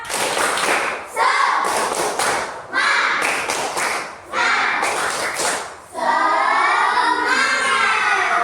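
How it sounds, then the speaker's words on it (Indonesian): Schoolchildren in a classroom clap the rhythmic 'tepuk semangat' cheer together, loud bursts of patterned claps broken by short pauses, with chanting voices running through them. "ayo kita tepuk semangat dulu"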